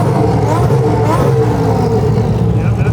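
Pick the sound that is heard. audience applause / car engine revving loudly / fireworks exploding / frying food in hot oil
car engine revving loudly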